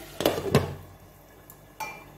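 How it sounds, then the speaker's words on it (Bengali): A lid goes onto a cooking pot of chickpea curry with two sharp metallic clanks close together, followed by quiet and then one more lighter clink. "ঢাকা দিয়ে দিই"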